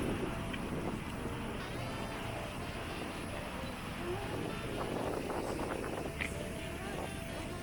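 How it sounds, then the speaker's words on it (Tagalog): Constant wind buffets and rumbles across the microphone outdoors in Vancouver, a broad steady roar with faint distant sounds underneath. "Hangin lang."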